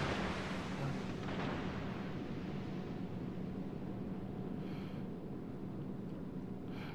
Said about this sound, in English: Somebody is firing at me.